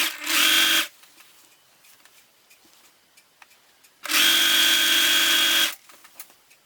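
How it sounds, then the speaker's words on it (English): A sewing machine stitches the raw edge of a pant-leg insert to the back leg piece in two bursts, a short one and then a longer one, each a loud, fast mechanical whir, separated by quiet handling noises. "So I'm going to now sew together the raw edge of my insert and my back leg piece"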